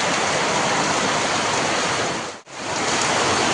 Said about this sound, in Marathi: आमच्या आले पाऊस अति मुसळधार पाऊस आहे